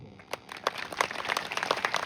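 Audience applause after a 5th-grade primary school girl's storytelling before a district collector, a dense, steady patter of many hands clapping at moderate level throughout.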